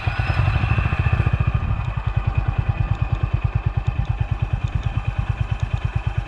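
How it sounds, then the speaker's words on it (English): A Honda CB350 Highness motorcycle engine fires up and settles into a steady, loud, thumping idle, with evenly spaced pulses close by and no talking. "I think we need to start the bike"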